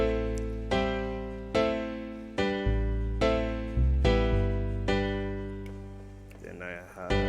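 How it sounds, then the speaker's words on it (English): Deep bass added under a layered piano track, booming beneath steady repeated chords that ring and fade, with a voice starting to speak near the end. "Then I also added a bass."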